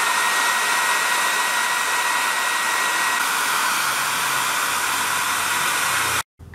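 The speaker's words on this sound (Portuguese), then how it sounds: "É importante o secador também porque ele vai esquentar a lata onde a gente vai fazer a solda." A hair dryer blows hot air onto a motorcycle fuel tank ahead of soldering, a steady, loud hiss and whir that runs unbroken before cutting off abruptly near the end.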